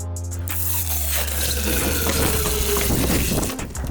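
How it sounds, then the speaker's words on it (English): A 3D printed water blaster fills with water, producing a steady, loud rush of running water with gurgling and splashing that continues unbroken for a few seconds. "let's fill this blaster up"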